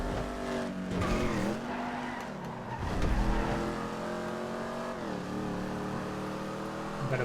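Classic race cars lapping the LSGP circuit in GTA 5, with engines revving up and down through gears and squealing tires in corners, continuous and fairly loud, no talk.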